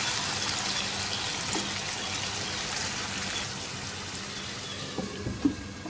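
Water pours and splashes into a pot of frying chicken tikka masala with a steady hissing sizzle, continuous for several seconds, with a small clink near the end.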